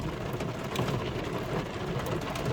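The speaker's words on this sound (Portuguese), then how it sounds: "E a chuva vai apertando" Heavy rain falling steadily, a dense hiss of drops with scattered sharper patters and a low rumble underneath, continuous and fairly quiet, with no voices.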